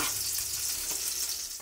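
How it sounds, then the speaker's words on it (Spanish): Asparagus hits a hot frying pan where mushrooms were sautéed beforehand, setting off a steady, close, fairly loud sizzle and frying hiss with faint stirring scrapes, no voices. "Y ahora le vamos a echar los espárragos."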